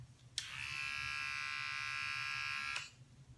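A Panasonic ES246 battery-powered facial hair trimmer, running on two AAA batteries, switches on with a click and whirs as a steady, high buzzing hum for about two seconds before cutting off, close and with no talking.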